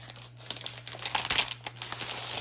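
Paper wrapping on an Etsy parcel crinkles and rustles up close as it is unwrapped, in quick uneven bursts over a faint constant hum, with no voices.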